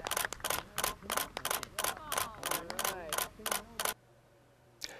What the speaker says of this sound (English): That clicking you hear is the shutter of a still camera rapidly firing away.